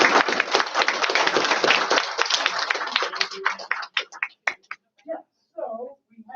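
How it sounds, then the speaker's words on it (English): An audience at a panel discussion applauds, dense clapping for about three seconds that thins into scattered claps and fades, with voices starting to talk near the end. "So let's give a round of applause."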